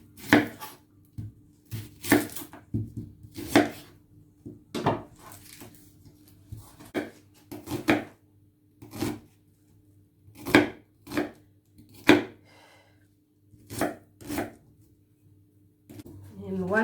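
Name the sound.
knife chopping red onions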